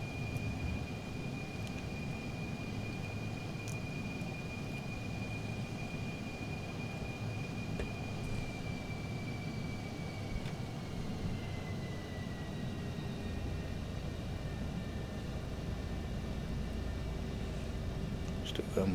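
An F-5E Tiger II jet on a long landing approach in Microsoft Flight Simulator gives a faint, steady engine whine and rumble, a thin tone that slowly drops in pitch as it continues.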